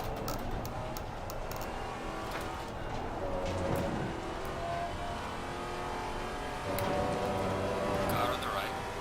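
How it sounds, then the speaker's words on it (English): Race car engines drone and rev in Assetto Corsa Competizione at Kyalami as a pink Porsche closes in, a steady mechanical whine from the cockpit with gear changes and a voice talking over it. "A pink Porsche is coming up to me."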